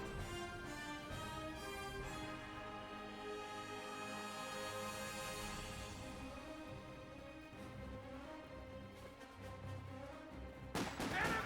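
Gunfire and artillery in the strategy game Company of Heroes 2, dense rattling shots and dull booms overlapping continuously at moderate volume, with a sharper burst of fire near the end.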